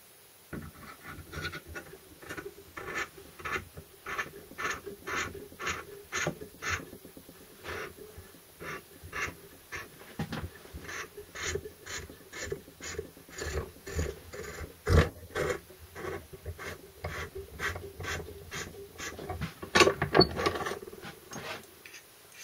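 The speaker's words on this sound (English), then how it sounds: "I think we'll run the reamer through and see what happens." Hand reamer worked through the throttle spindle hole of a Land Rover Series carburettor, producing a quick run of regular scraping, clicking strokes, close and fairly quiet, growing a little sharper toward the end.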